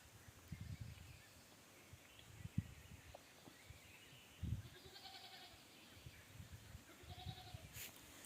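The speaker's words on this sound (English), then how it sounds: "One goat being left out by the herd, it's crying for her friends." Goat left behind by its herd bleating repeatedly outdoors, several plaintive calls at a distance spread across a quiet rustling background, with faint birdsong.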